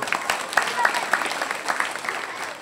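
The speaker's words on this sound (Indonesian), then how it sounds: "Tepuk tangan untuk kita semua." An audience at an Islamic health talk in Surabaya gives brief, scattered applause, individual claps sounding close and uneven under a continuing voice speaking.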